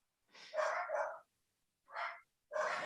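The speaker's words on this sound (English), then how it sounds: "I've really noisy dogs." Noisy household dogs bark three times nearby: two quick barks run together, then a pause, then a single bark, and a fourth bark begins at the end, loud against silence.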